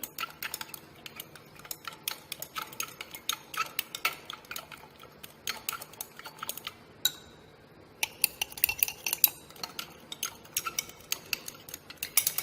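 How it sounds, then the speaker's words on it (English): Brisk clinking and ticking of a glass rod against lab glassware while beta-naphthol is stirred vigorously into sodium hydroxide solution, a steady run of small close taps with a brief pause midway. "Vigorous stirring and continuously dissolve it properly, all the beta-naphthol in NaOH."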